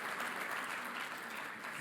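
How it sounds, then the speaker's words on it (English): Conference audience at ICAN Dubai 2023 applauding, a steady wash of many hands clapping at moderate distance, fairly quiet and continuous throughout, with no talking over it. "Give your guys yourselves a round of applause."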